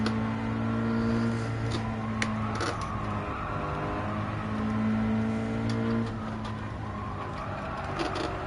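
A Toyota Gazoo GT Cup race car engine in Gran Turismo 7 at Suzuka drones and revs in sustained steady tones, rising and holding, loud and continuous with faint clicks and no speech.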